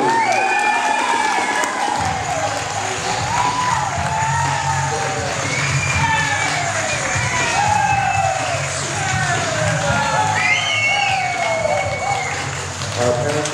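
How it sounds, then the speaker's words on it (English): Wedding guests clap and cheer for the bride's parents during the bridal party introductions, a lively crowd with whoops and shouts over a low music bed, steady and sustained. "have a nice big round of applause for Paul and Joanne Carney"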